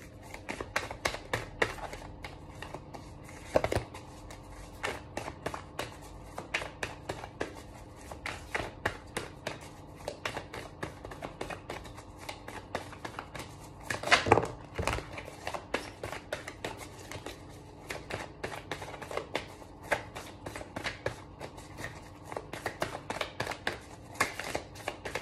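A deck of cards being shuffled and cut by hand in a tarot-style reading, a long run of quick soft riffles and card flicks, close and moderately quiet, with occasional sharper slaps.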